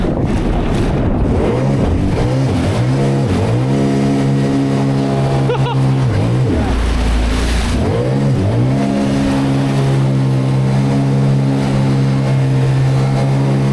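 Jet ski engine on a 300HP Patrol, held loud and steady, then revved hard with rising and falling pitch during a wheelie attempt, close up and continuous the whole time.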